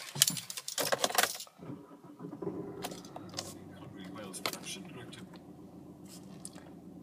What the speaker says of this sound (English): For now, start the vehicle up.